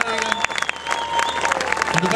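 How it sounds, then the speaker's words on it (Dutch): Audience applause at the 2011 Pijnacker military tattoo show, a steady patter of many hands clapping with tonal voices and sounds mixed in throughout. "Ja, dames en heren, geeft u ze nog een bijzonder applaus."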